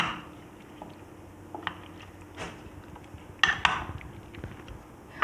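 A spoon clinks and scrapes in a metal bowl as oil used for frying onions, the fried onions and chaat masala are stirred together for Karachi-style chicken biryani, with soft scattered taps and a couple of sharper clanks.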